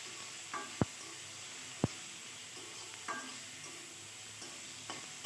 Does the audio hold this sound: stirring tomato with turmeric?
yes